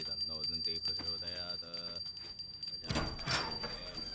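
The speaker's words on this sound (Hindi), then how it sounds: "घंटी की आवाज सुनाई नहीं दे रही क्या तुम्हें?" A bell rings inside a house in a Telugu drama film, heard among other busy household sounds with a brief burst of clatter near the end.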